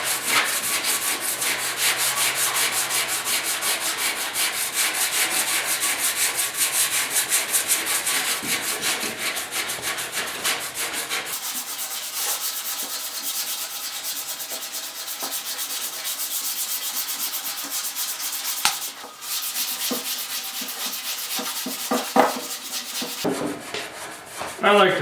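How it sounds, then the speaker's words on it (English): Scuff cloth rubbing down the finish on a 1956 Ford pickup hood, a steady, close, rhythmic scratchy rubbing that carries on for the whole stretch, softer and lighter in its second half. "I like to finish it with a scuff cloth."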